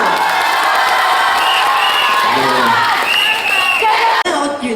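Audience applause and cheering at a shopping-centre fan meet with a singer, a loud continuous crowd roar with whoops and shouts, children's voices among them, tapering slightly at the end.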